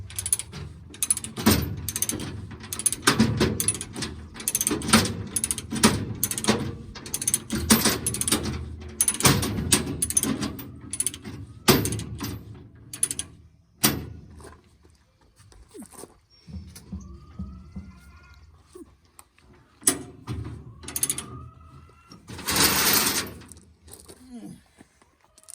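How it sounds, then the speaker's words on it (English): Ratchet chain binder tightening a chain on a gooseneck dump trailer, rapid clicking and clanking bursts of metal, close and loud, with pauses and quieter clanks later. "you just ratchet on in, and that chain tightens up."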